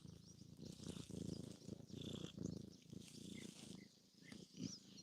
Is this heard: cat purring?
yes